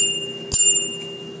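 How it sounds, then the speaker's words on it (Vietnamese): Bell on a vintage Japanese National bicycle, a single bright ring with a sustained metallic tone that lingers and fades, heard close up in a quiet room. "Chuông đây."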